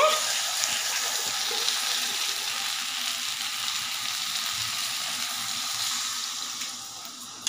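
Okra curry sizzles and fries steadily in a pan as water is added, a continuous bright hiss at close range with no one talking.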